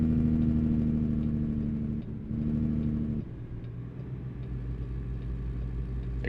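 Truck engine in American Truck Simulator rumbling low and steady while the rig turns a corner, the hum shifting pitch and briefly dipping as gears change, then settling into a deeper idle-like drone, with no talking.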